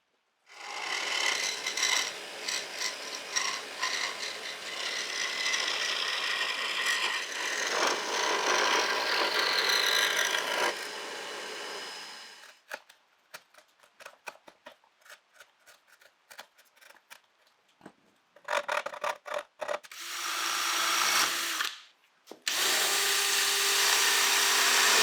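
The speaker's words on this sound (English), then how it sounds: "cut out the opening for the pickups and drill the holes" A wooden guitar top plate for a scrap-wood hollow body is sawn with a long rasping cut, then the work turns to short intermittent scraping and drilling bursts, with a loud buzzing run near the end.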